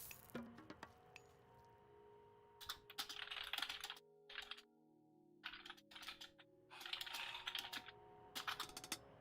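Rapid bursts of computer-keyboard typing, clusters of quick close clicks separated by short pauses, fairly quiet with a faint steady background hum.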